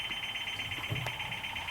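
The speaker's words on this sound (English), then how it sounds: "Then I'm going to shut off that child check alarm." School bus child check alarm sounding a steady, continuous high-pitched electronic tone at close range, with a faint click midway.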